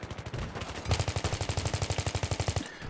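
Rapid automatic gunfire from a Battlefield video game rattles in fast, evenly spaced bursts, a short burst first then a longer sustained stream of shots, loud and close with no voices.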